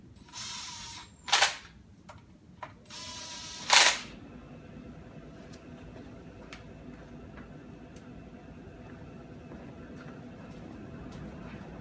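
A ratchet snugs down bolts on a Cleveland 409 engine, giving a couple of short, sharp clicking bursts early on before settling into a quiet, steady background hum.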